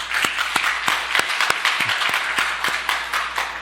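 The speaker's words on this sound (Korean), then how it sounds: "우리 박수로 환영합니다." Church congregation applauds in welcome during a service, a full, continuous round of clapping from many hands with a few sharper individual claps standing out, steady from start to finish.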